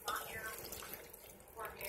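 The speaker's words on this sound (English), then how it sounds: "Adding another cup of water." A cup of water pours into a pot of fried shrimp noodle soup, a short, soft splashing trickle that swells again near the end, close by and fairly quiet, with a voice speaking over it.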